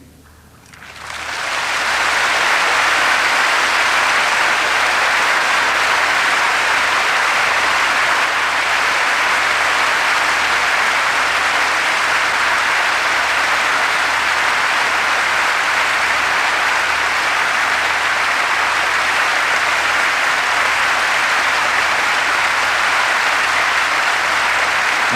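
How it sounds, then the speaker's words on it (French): A large audience applauds after a Christian testimony by a former delinquent. After a short quiet opening, a loud, sustained wall of many hands clapping rises and holds evenly for more than twenty seconds, with no talking over it. "tous ces applaudissements à toi Seigneur"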